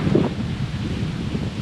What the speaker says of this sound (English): The wind is like crazy, man.